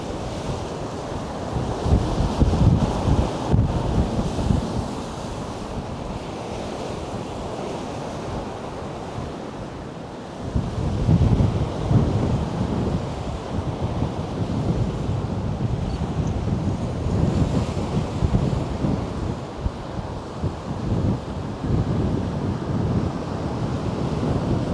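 Wind gusts across a beach at Can Pastilla, Mallorca, buffeting the microphone with a heavy, continuous roar while surf washes in underneath, the gusts swelling and easing over time.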